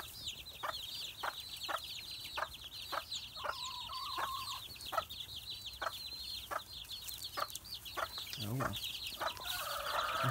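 A disappointed pet chicken clucks in a steady run of short repeated calls close by, with brief faint talk in the background near the end.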